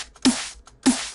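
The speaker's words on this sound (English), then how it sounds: "this is a typical processed 909 snare." A punchy processed 909 drum-machine snare sample struck twice, short and tight with a bright noisy burst and quick decay, alone and up front.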